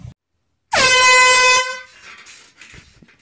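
An air horn prank goes off in one loud, brassy blast lasting about a second, close and piercing, then a muffled reaction with some rustling follows.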